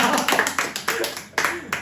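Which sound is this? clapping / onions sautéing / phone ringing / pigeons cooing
clapping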